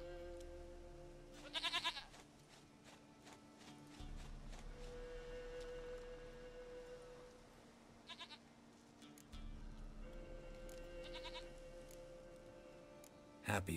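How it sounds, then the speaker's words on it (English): A goat in The Witcher 3 Wild Hunt gives three separate wavering bleats, near and fairly loud, spaced out over a quiet game-world hum with low background tones between them. "Goat of mine, dearest, sweetest goat."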